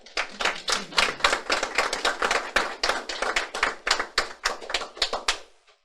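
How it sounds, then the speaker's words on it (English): An audience at a workplace survey report release gives a round of applause, a dense burst of close hand claps that holds steady for several seconds and then stops abruptly. "I please allow us to give a round of applause."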